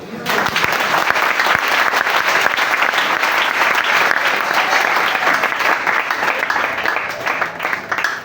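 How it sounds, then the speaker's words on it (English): An audience claps after a talk, a dense, sustained burst of applause from many hands that carries on evenly for several seconds at full loudness and fades slightly at the end. "Clap for me, I'm done."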